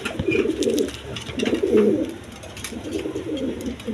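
A pair of black beauty pigeons coo inside a pigeon shop, with three deep, rolling coos in steady succession, close and fairly loud over faint shop background noise.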